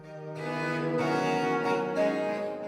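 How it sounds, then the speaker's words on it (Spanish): Lira del cielo, a bowed-string keyboard instrument, playing a sustained chord in Toledo Cathedral, with rich layered tones swelling and shifting over a few seconds, no talking. "La lira del cielo ha vuelto a la Catedral de Toledo y suena así."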